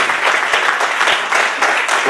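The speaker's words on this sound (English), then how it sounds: "So give them a round of applause." Audience applause at the World Memory League Championship 2016 final, a steady, loud wash of many hands clapping that continues throughout without pause.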